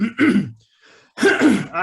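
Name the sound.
cough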